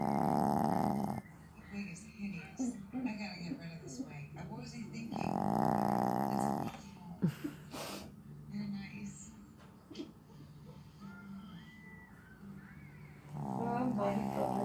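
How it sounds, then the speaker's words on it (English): A pet lying on her back snores loudly and close by, with long rasping snores roughly every five seconds and quieter breathing and small shuffling sounds in the pauses between them. "laying on her back, legs wide open, snoring up a storm"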